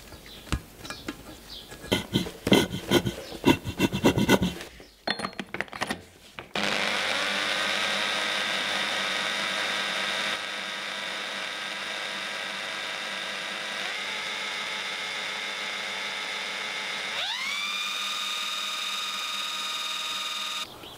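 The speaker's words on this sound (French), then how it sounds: "je vais le remonter, je vais le faire tourner un petit peu à la perceuse." Electric drill spinning a car's differential cover with a locking differential, a steady high whine running for many seconds with slight pitch shifts, preceded by clattering and handling noises.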